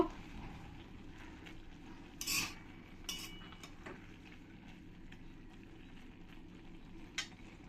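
Jute greens are stirred with fried shrimp in a pan, giving a soft continuous scraping and low sizzle with a few brief utensil clinks against the pan.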